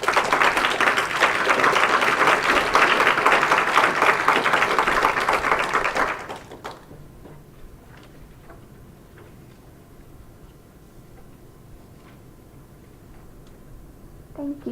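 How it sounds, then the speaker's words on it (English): Audience applause at a high school poetry slam, a full round of clapping for about six seconds that stops abruptly, followed by a quiet room with faint scattered sounds. "Another round of applause for Jake,"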